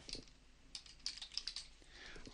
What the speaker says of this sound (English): So I'm going to type in HTTP.